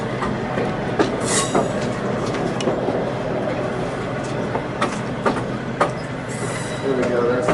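Carriages on the Western Maryland Scenic Railroad roll along the track with a steady rumbling roar, scattered clicks from the rail joints and faint squeals from the wheels, heard close from on board.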